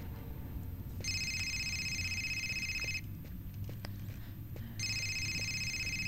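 A telephone rings in the video game Indigo Prophecy, two long electronic trilling rings separated by a pause, steady and clear over a faint background hum.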